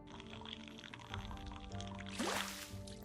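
Water poured from a bucket in the VR game Innkeeper, a short splashing pour rising near the end over quiet game music, close and fairly faint.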